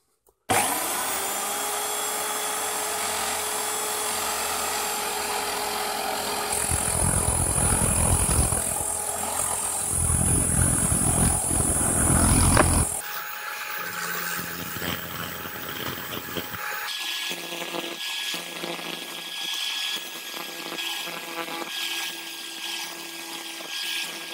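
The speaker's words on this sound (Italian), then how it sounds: "ora non dobbiamo fare altro che far partire il trapano e possiamo affilare tutti i denti" A steady, high-pitched motor whine of an electric drill grinding the metal teeth of a circular saw blade, running continuously with shifts in pitch as the load changes.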